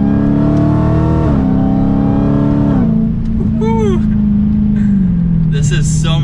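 Dodge Challenger SRT Hellcat Redeye, supercharged, its deep exhaust drone climbing and shifting under acceleration with a whining supercharger above it, loud and close from the cabin.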